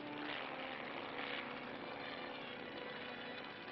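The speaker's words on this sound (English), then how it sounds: "Among the many missions performed by the Navy helicopters" A Navy helicopter flies over water recovering samples at a nuclear test, heard as a faint, steady muffled rotor and engine drone through an old film soundtrack for a few seconds.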